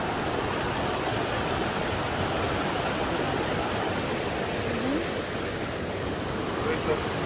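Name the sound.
mountain stream water flowing in the French Alps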